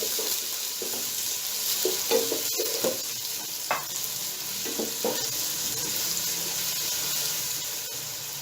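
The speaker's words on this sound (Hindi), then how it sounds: "सबसे पहले हम पैन में ऑयल लेके उसमें चॉप किए हुए प्याज डालेंगे।" Chopped onions frying in oil in a pan for matar pulao give off a steady hiss, with occasional soft stirring knocks and scrapes near the start, and no voices.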